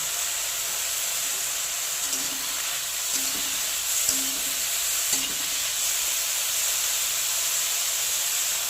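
Dried prawn fish frying in a pan with salt and turmeric, a steady broad sizzle and hiss with a few faint stirring taps, close and even throughout, no talking.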